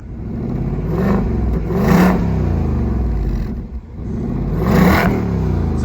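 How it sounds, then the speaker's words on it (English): A 2024 Ford Mustang engine revs with its active exhaust in quiet mode, fitted with an MRT H-pipe, outdoors in cool air. It settles into a low idle, then makes two rising revs that swell and fall back, subdued and close by, with no voices. "some low revs, some high revs"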